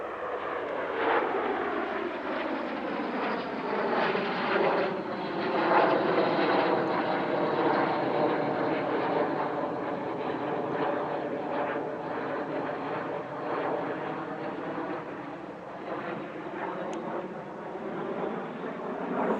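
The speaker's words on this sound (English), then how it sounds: "here's a trio of L-39C Albatrosses from Patrouille Fly and Fun" Three L-39C Albatros jet trainers fly past at an airshow, a continuous loud jet roar with shifting whine overtones that swells and fades gently across the pass.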